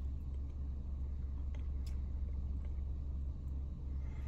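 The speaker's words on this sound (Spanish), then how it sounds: "Ahorita tengo el carro prendido porque no tenía batería" A 2019 Toyota car idles steadily with a low, constant engine rumble, close and unbroken, with no voices over it.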